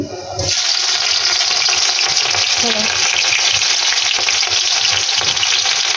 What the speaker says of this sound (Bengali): এখন দিয়ে নিব পেঁয়াজ কুচি